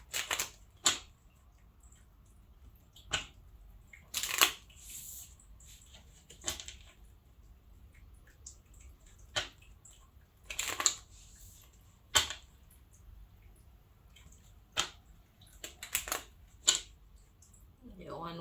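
Tarot cards are shuffled and slapped down in repeated quick bursts of crisp riffling and snapping, close and fairly quiet, with short pauses between them.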